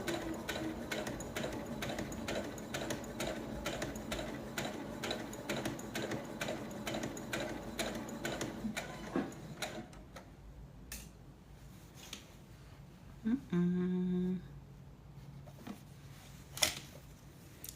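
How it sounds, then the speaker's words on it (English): Sewing machine stitching tote bag fabric in a fast, even mechanical chatter that runs close and steady, then stops, leaving a few clicks and a brief whir. "Now, as I sew this,"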